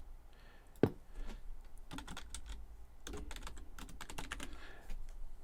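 A computer keyboard clicks in soft, irregular bursts of keystrokes as a short label is typed, with quiet pauses between runs and faint room background.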